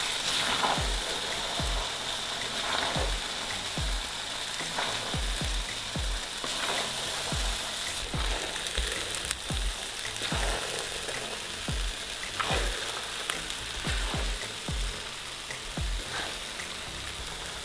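Vegetables for a winter salad, garlic and onion among them, fry in a pan with a continuous close sizzle broken by regular knocks of a spoon stirring them, heard without any talk.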